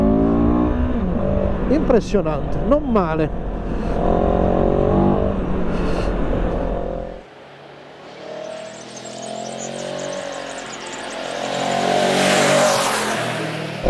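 A CFMOTO CLX 700 motorcycle with a 70-horsepower engine accelerates hard, its note climbing steadily in pitch and loudness. Someone talks over it in the first half before the engine carries on alone.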